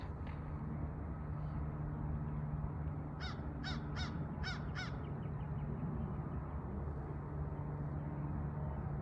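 A crow caws five times in a quick, regular burst, moderately close over a steady outdoor hum with no talking.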